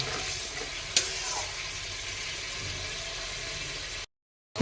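Potatoes and broad bean seeds fry with spices in a pan, a quiet steady sizzle with a sharp clink near the start, ending in a brief silence and then a short burst of sound.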